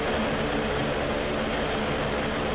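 A turboprop plane passes overhead, its engine and propeller giving a steady, loud, broad roar that stays even from start to finish, with nothing else heard over it.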